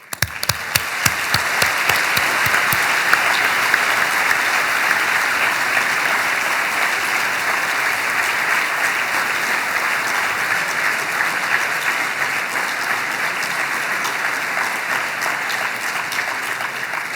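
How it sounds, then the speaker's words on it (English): Graduation ceremony audience breaks into applause, starting with a few sharp individual claps and swelling into a broad, steady wash of clapping from a large crowd that holds for the full stretch. "I think we deserve a round of applause for that."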